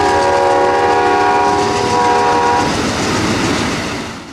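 An Amtrak passenger train led by a Phase 1 Heritage engine rumbles past at close range, its horn sounding a long chord before the loud clatter of wheels and cars takes over and slowly fades.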